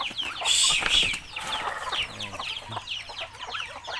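Pet chickens cluck eagerly before feeding, a busy chorus of close, overlapping clucks with some wing flapping, steady throughout and without talk.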